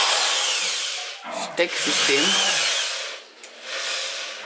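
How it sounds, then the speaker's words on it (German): A power drill boring holes for mounting a lamp indoors runs loudly for about a second, stops briefly while a voice speaks a word, then whirs again in sustained bursts. "jetzt muss er nochmal 3 Löcher bohren"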